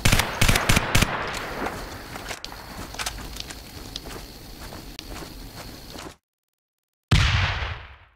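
Grenade explosions in a CryEngine 3 game scene with jointed breakable brick objects: loud sharp blasts with crackling debris and rumble, a brief silence, then another close blast that fades out.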